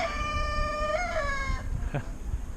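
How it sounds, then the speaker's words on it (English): A rooster crows once at moderate distance in an Alpine village in Switzerland, a long strained call, followed by a short cluck amid background noise. "Did you guys get to hear the rooster?"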